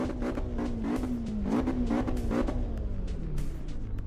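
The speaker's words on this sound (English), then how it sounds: "You guys can hear the engine." Car engine in the Assetto Corsa Evo racing game, revving loud and close as it climbs and drops through gears, with a steady tonal whine and rising pitch sweeps, no voices over it.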